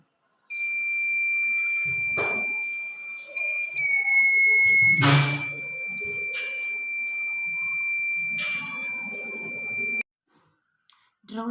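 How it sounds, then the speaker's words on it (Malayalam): A drowsiness detection prototype with an IR sensor sounds a steady, loud electronic beep tone that runs for about ten seconds, with faint clicks and handling noise over it, then cuts off abruptly. "IR സെൻസർ വഴി സെൻസ് ചെയ്ത് ഒരു ബീപ്പ് സൗണ്ട് ഇത് ഉണ്ടാക്കും."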